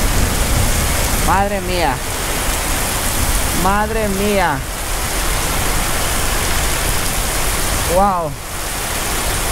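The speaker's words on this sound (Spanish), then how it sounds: "continúa la lluvia, gente. Continúa la lluvia, miren." Heavy rain pours steadily and loudly in a neighborhood, a constant dense hiss throughout, while a voice exclaims in between.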